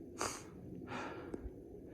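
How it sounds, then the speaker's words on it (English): A hiker pants heavily while climbing a steep slope on a snowy trail, with a few sharp, close breaths and a short sniff. "Maybe you can hear me panting."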